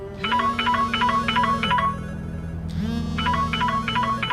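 A telephone rings with a trilling electronic ringtone in repeated bursts, pausing briefly before starting again, loud and close over a low steady tone.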